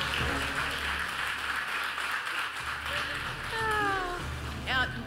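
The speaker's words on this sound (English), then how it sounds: "so she deserves a round of applause." An awards-show audience applauds for a longtime camerawoman, a dense, steady patter of clapping heard mid-distance, with a voice and some tonal sounds rising over it near the end.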